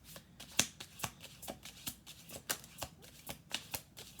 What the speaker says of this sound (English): We'll do 2 more shuffles.